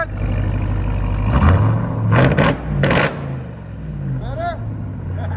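A 2022 RAM TRX with a supercharged 6.2L Hemi V8 and muffler delete revs hard in a couple of loud, close bursts that rise over its deep idling rumble, then settles back down. Someone speaks faintly near the end.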